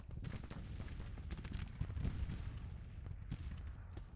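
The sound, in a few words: gunfire in video game Grand Tactician: The Civil War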